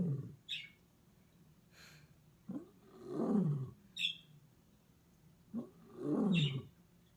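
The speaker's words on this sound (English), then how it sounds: "what sound does a lion make?" An Amazon Alexa smart speaker plays a recorded lion roar indoors, two deep rumbling roars a few seconds apart with faint chirping sounds scattered between them, moderately loud.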